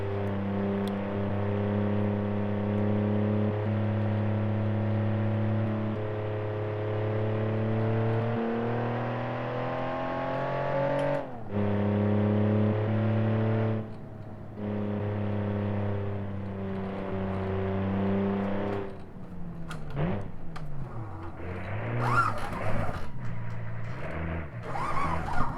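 Car engine in BeamNG.drive holding a steady drone on a test-drive lap, with strong harmonic tones that rise through gear changes and then break into rougher revving and clunks near the end, close and loud with no talk.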